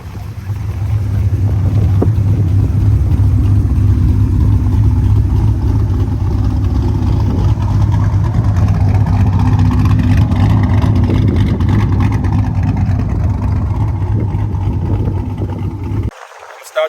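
A 2009 Pontiac G8 GT engine runs with a loud, steady low rumble and some wind buffeting, holding constant for about sixteen seconds before cutting off abruptly.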